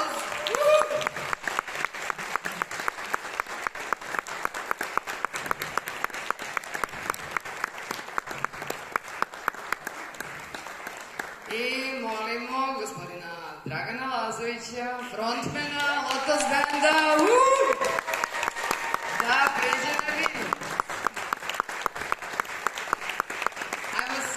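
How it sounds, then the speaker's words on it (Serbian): An audience at an Indian culture and music evening in Belgrade claps in a sustained, rhythmic round of applause, loud and close, while a voice speaks over the crowd partway through. "Jedan aplauz."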